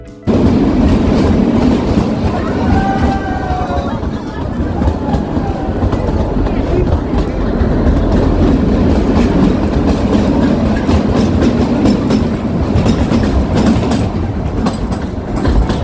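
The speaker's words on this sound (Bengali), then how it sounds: "কালকা two Shimla toy train service চালু হয়েছে" Kalka–Shimla narrow gauge toy train running, a loud, close rumble with steady clickety-clack of wheels on rail joints and a brief metallic squeal early on, continuous for the whole stretch.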